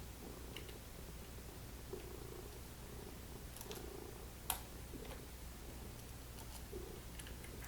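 A cat purrs softly and continuously in a quiet room, a faint low rumbling rhythm of repeated breaths, with a small click or tap near the middle.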